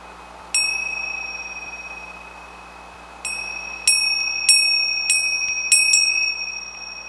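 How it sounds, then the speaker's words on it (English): Loud bell ringing: a single bright ding, a pause, then a series of repeated dings in uneven rhythm, each ringing on with a long decaying tone, close and alone over faint background hum. "Loud bell."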